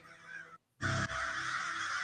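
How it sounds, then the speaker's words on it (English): Birds calling loudly while chasing bugs: a short honking cry, a brief pause, then a sustained, harsh, close chorus of honk-like calls with no talking. "It's the birds."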